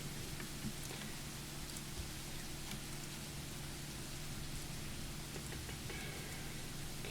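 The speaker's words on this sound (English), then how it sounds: "And now it is raining." Rain falls in the naval battle game Rule the Waves III as a soft, steady hiss of drops with a low constant hum beneath, faint and even throughout with no voices.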